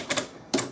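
A faulty 1960s Underwood Typemaster typewriter that no longer types is being worked: two quick mechanical clacks, a short pause, then another clack, close and crisp.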